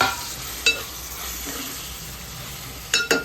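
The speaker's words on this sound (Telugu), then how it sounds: "టమాటాలు పచ్చిమిరకాయలు వేసేస్తున్నాం." Tomatoes and green chillies go into softened onions frying in a pan for Nellore fish curry. A steady, close sizzle runs throughout, with one sharp clink early on and a quick cluster of stirring knocks near the end. No one speaks.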